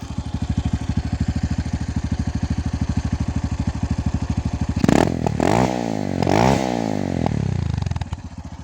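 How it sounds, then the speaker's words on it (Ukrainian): A motorcycle with a homemade straight-through exhaust idles with a rapid, loud, chugging exhaust pulse, then revs up and down sharply a few times with crackling pops before settling. "Мотоцикл працює"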